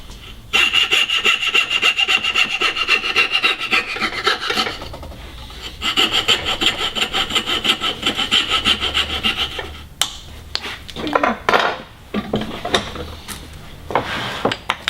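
A hand saw rasps back and forth through wood while cutting a dovetail joint, with steady close strokes in rhythmic bursts and brief pauses between them.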